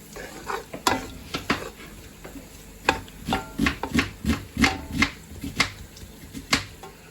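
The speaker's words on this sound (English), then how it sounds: "I'm just going to keep on stirring this and frying it until it's golden brown" Repeated scraping and tapping of a utensil against a pan of frying garlic over a steady faint sizzle, close and irregular, with no talking.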